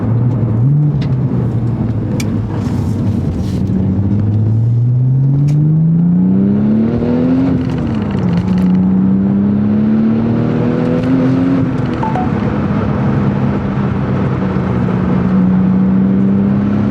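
Porsche 996 Turbo X50 with a manual gearbox accelerating hard through the gears, the engine note climbing steadily, dropping at a shift, then rising again in a loud, continuous in-cabin roar with no talking.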